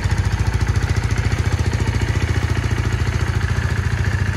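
A KTM 390 motorcycle engine idles steadily nearby, a loud, even, rapid thumping pulse holding constant throughout with no voices.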